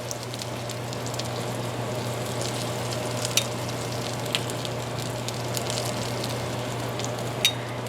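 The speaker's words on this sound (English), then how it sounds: "I'm going to go ahead and get them flipped over, and then while these brown on the other side" Smashburger patties sizzle on a flat-top griddle with a steady, moderately loud frying hiss and occasional spatter pops, over a faint low hum.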